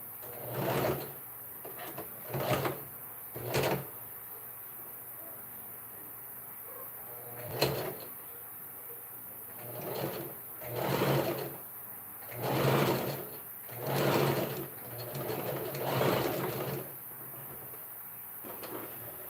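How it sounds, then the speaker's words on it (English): Sewing machine stitching Ankara fabric in a series of short whirring bursts, each lasting about a second with pauses between, close and fairly loud with no talking. "I will just be stitching it at 1/2 inch"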